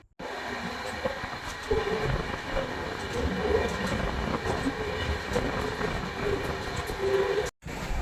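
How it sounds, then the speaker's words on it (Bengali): Train rumble and rail noise as a superfast express pulls out of Berhampur railway station in Odisha, a steady loud rolling roar with faint clatter throughout, briefly cutting out near the end. "ট্রেন ছেড়ে দিল উড়িষ্যার বাহারামপুর রেল স্টেশন থেকে, আর এর পরবর্তী স্টেশন হচ্ছে পালসা।"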